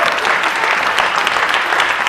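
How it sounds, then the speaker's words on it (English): An audience at a community rally in Philadelphia applauds loudly and steadily, a dense wash of clapping that continues throughout. "Let's give them a big round of applause."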